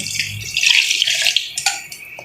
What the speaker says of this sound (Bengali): মুরগি কিন্তু রান্না বসাই দিছি অল্প পানি দিয়ে দিতেছি